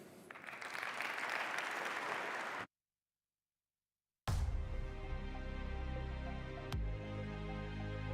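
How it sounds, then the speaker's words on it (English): Audience applause at the HCI 2025 conference fills the opening seconds as a dense, loud ovation. It cuts to silence, then a steady, sustained tonal music passage follows. "Let's give him another huge round of applause."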